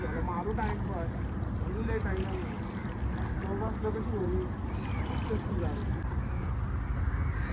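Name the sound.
boat moving through mangrove water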